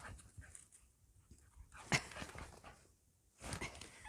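A dog whimpers and pants in short, fairly quiet bursts, with a sharper yelp near the middle and a louder flurry toward the end, heard alone without talk.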